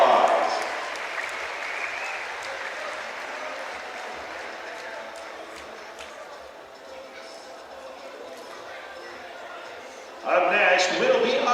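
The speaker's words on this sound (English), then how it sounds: "Let's give them a round of applause." Crowd applause at a high school boys basketball game, Orem at Salem Hills, honoring the senior drill team; steady clapping and cheering that fades down, then swells again near the end.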